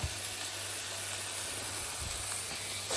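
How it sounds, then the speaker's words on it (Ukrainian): A constant, soft hiss of something frying in a pan, even and unbroken, heard alone with a faint low hum underneath. "Ще я смажу нам по куску м'яса."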